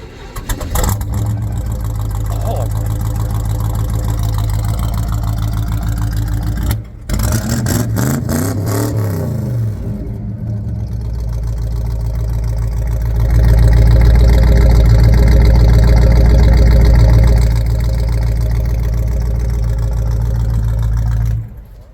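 A 1964 Chevrolet El Camino at an outdoor collector car flea market rumbles loudly at idle, then is revved repeatedly with deep surging bursts before settling back into a heavy, steady idle.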